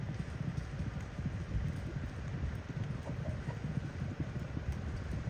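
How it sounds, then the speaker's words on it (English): Muffled hoofbeats of horses pound steadily over a dull outdoor rumble on a farm, with no voices. "We got our own private horse races here at the Hidden Spring Farm."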